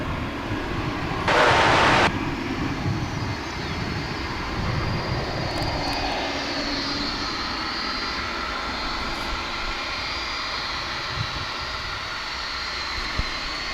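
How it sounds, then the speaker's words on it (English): A UPS Boeing 757 cargo jet taxis at DFW International Airport, its engines giving a steady, moderate rumble and whine that holds across the stretch, with a short sharp burst of noise near the start. "That's UPS flight 9750. A 757."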